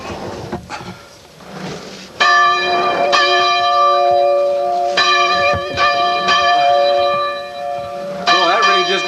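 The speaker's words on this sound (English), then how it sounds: "when the first time that you were able to hear this bell ring" A bell rings loudly and close at a car show fundraiser, with several resonant strikes whose long, sustained tones overlap and linger, and a person talks briefly near the start.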